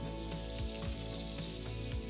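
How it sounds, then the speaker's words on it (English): Peaches sizzling in butter on a grill, glazed with cinnamon and brown sugar, give a steady close frying hiss with soft crackling pops throughout. "So I can hear the sizzle of the peach."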